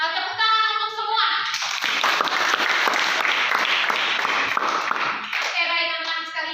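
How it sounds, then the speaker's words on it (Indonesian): Classroom applause from students at the end of a lesson, a dense burst of clapping lasting several seconds, framed by a voice speaking before and after. "Tepuk tangan untuk semua."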